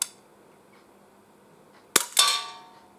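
An Umarex Glock 17 Gen 5 CO2 pellet pistol fires a single sharp crack followed closely by a weaker metallic clack of slide blowback, both close and loud against a quiet room.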